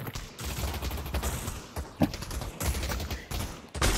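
Gunfire in the VR shooter Pavlov VR: a dense run of loud, close shots and bursts with sharp cracks across the clip, alone with no talking.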